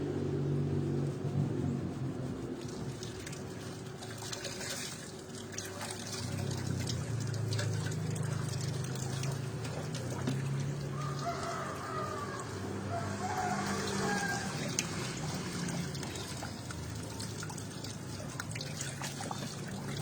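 Running water rinses makrut lime and ginger shampoo out of hair, a steady close trickle and splash that goes on without a break for about twenty seconds, with no talking.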